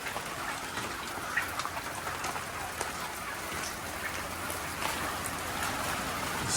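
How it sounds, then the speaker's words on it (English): Steady rain falls outside on a drive home in the Philippines, a soft continuous hiss of drops on surfaces with occasional louder patters, heard fairly faint and even throughout with no voices. "It started raining on our way home, so it washed the car for me"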